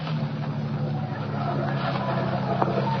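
A car rolls through a gate and pulls in to park at an amusement park in a 1940 radio drama, a steady close motor hum running continuously before settling.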